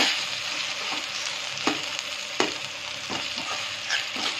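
Tomatoes fry in a pan for a prawn curry, a dense, close sizzle broken by several sharp scraping strokes of a spatula at irregular intervals.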